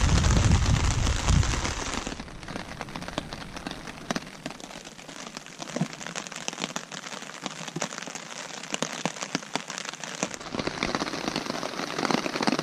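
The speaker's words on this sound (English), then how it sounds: "No, still raining, no change at all. It's coming down pretty good now." Steady heavy rain drumming on a surface at a lakeside wilderness campsite, constant and close, with a dense patter of drops throughout and no voices.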